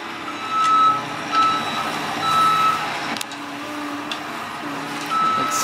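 Repeated high-pitched reversing beeps from a skid steer backing up, evenly spaced, over a rumbling engine and outdoor site noise during a concrete driveway pour.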